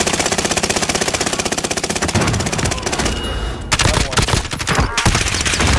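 Rapid automatic gunfire in a Caldera battle royale match, dense bursts of shots rattling nearly nonstop, with a few louder nearby blasts and brief gaps near the end.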